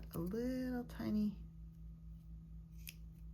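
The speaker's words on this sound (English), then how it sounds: "if your scissors want to work for you, cut a little snippet off." Scissors snip fabric for a sewn dog shirt, with a voice speaking over the start, then a steady hum and a few faint snips close by.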